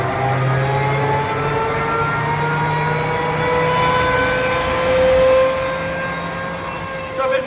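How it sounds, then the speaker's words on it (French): A 2200-horsepower aircraft jet engine fitted in a Renault Twingo runs with a high, whining roar and rising tonal whistles over a broad rushing noise, fairly steady throughout. "Ça fait le bruit d'un avion."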